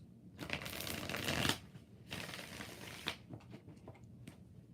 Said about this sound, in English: 5 shuffles.